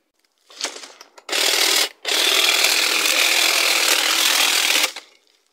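Mac Allister MHT 1855-Li 18V cordless hedge trimmer cutting through long brambles along a fence: a short buzzing burst, then two loud sustained runs of clattering blade noise, close and with no one talking.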